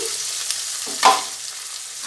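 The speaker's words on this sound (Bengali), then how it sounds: "এই যে তো এক পিঠ ভাজা হয়ে গেছে, এবার উল্টে দিয়েছি" Rohu fish frying in oil after being turned over in the pan for a mustard rui dish: a steady close-up sizzle with a brief louder crackle as the fish settles, then a continuous hiss.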